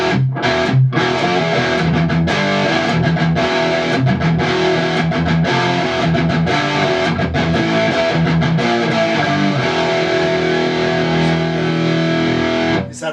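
Electric guitar played through an amplifier's distortion channel, a thick, fat, round-toned sustained crunch of chords and notes, loud and continuous with no talking.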